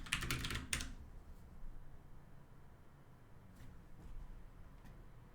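Quick clattering keystrokes on a CODE mechanical keyboard, a short close burst of typing at the start followed by a few faint isolated clicks in a quiet room.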